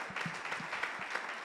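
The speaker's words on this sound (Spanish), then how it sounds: "Aplauden al Señor." A church congregation gives a burst of applause, brief and moderately loud, in a short run of scattered claps with no talk over it.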